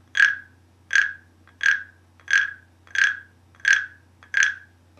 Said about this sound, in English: play the song of a frog